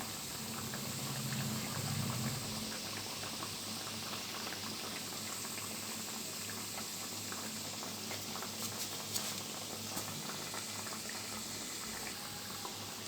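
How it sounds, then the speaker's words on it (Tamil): Khajur sweets sizzle steadily in hot oil on medium heat, a continuous soft bubbling crackle with faint patter throughout, no talking. "நான் மீடியம் இதில் வச்சு தான் நான் பொரிக்கிறேன்."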